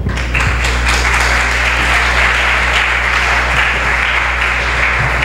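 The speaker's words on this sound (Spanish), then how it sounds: "Con un gran aplauso, recibamos a la doctora Ana Copete." A dense, loud, steady round of applause fills a room as the crowd at a cultural event welcomes a speaker, with clapping continuing unbroken throughout.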